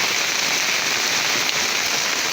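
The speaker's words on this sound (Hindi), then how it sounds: "बारिश की बूंदें हो रही है।" Rain falling steadily in a village, a dense continuous hiss of drops striking surfaces, loud and close with no pauses and no voices.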